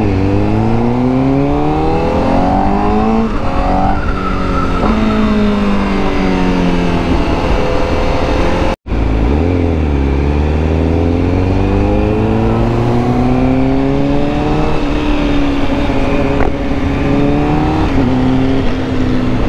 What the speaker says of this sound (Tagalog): Lalo na pag alam mong sobrang ingay ng motor mo.